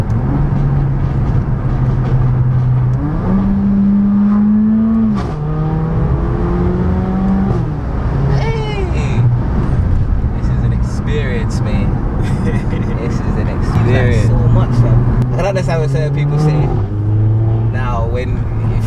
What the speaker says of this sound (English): As soon as you put it in sports mode, the engine just sounded a lot louder, like a lot more gurgles.